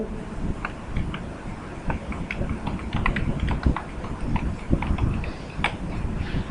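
Rapid, irregular clicking of keys on a computer keyboard while typing Java code, close and fairly quiet, with bursts of keystrokes and short pauses.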